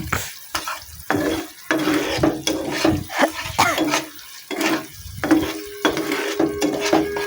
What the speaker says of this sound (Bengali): তো আমি ভালো করে নাড়াচাড়া করে নিচ্ছি।